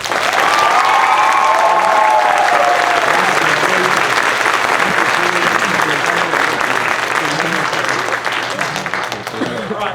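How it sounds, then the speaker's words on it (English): Loud, sustained audience applause at a JROTC potluck promotion ceremony, dense clapping filling the room while people cheer and talk beneath it. "So please give her and Gracie a round of applause."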